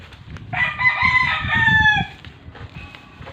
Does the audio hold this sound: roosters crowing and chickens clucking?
yes